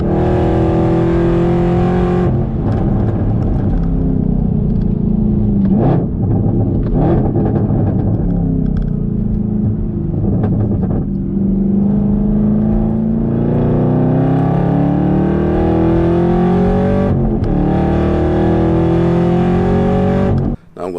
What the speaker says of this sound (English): we're about to take the M2 competition for a ride on the track